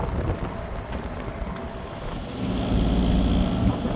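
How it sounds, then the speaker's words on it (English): Wind buffets a sailing boat at sea, with steady rushing gusts and low microphone rumble, plus faint creaks and water noise, strengthening toward the end. "the wind is right on the nose and is currently 18 knots"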